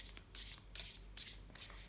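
Oracle and tarot cards are shuffled by hand in four quick, crisp riffling bursts, close and fairly quiet, with no talk.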